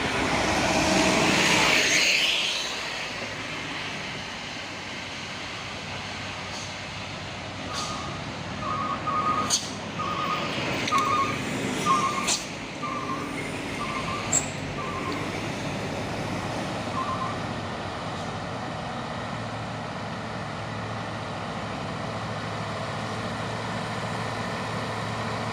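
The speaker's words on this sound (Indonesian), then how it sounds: "Dan ini juga ada satu unit truk Fuso" A Fuso truck loaded with shells labors up the Bukit Kodok hill, its engine a steady drone under a brief run of repeated beeps midway, with no talk.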